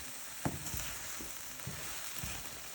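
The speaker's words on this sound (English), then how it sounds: "Yeah, fry like that." Taco meat and vegetables seasoned with salt and pepper sizzle in a pan, a steady close crackling fry with a few soft stirring knocks.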